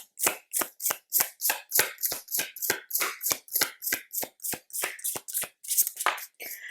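Rhythmic, close slapping riffles of a tarot deck being shuffled, about twenty quick evenly spaced strokes in a row with no talking.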